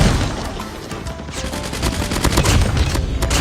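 Rapid automatic fire from a gold-skinned KN-44 rifle in Call of Duty Mobile ranked play, with dense bursts of repeated shots running continuously and fairly loud throughout, plus scattered in-game effects.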